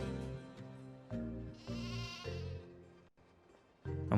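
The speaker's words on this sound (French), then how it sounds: "Beaucoup de moutons." Many sheep bleat in Skylanders Spyro's Adventure, a series of overlapping wavering calls arriving one after another over a steady flock, with a brief pause before another bleat starts.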